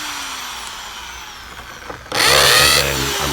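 A power drill bores 1.25 inches down into a 2-inch concrete slab for anchor bolts, bursting in loud and close after a quieter lead-in, then grinding on steadily.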